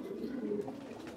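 Desi pigeons, with one coloured bird among them, give a low, steady burbling coo up close that lasts the whole moment without a break.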